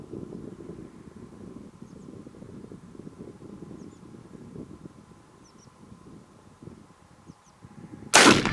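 A single loud, close rifle shot from a Swedish 12.17x44R rimfire rifle fired outdoors at a steel plate 100 yards away, arriving sharply at the very end after several seconds of quiet wind and faint birdsong.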